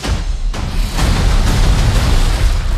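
A loud film explosion from Borderlands booms and then rolls on in a heavy, sustained rumble that fills the whole clip.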